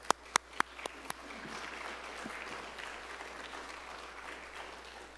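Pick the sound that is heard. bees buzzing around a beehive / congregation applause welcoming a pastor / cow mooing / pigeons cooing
congregation applause welcoming a pastor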